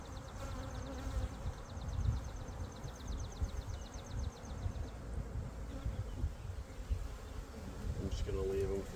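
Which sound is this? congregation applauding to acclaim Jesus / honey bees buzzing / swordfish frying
honey bees buzzing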